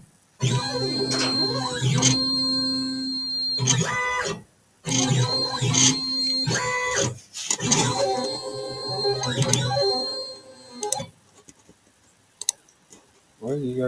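A Langmuir Crossfire PRO CNC plasma table runs a cut on positive lettering, giving steady tonal whining and buzzing in long bursts with brief pauses between passes, close and fairly loud.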